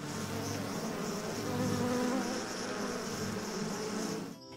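Honey bees swarm around farm beehives, a dense, continuous buzzing drone close by that swells slightly and holds steady before fading briefly at the end, with no talking.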